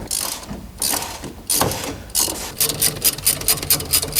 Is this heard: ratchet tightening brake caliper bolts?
yes